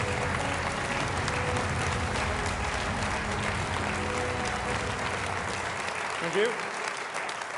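A crowd applauds steadily as the Tees Valley mayor walks on at a Conservative manifesto launch, continuous clapping filling the hall until someone briefly speaks near the end.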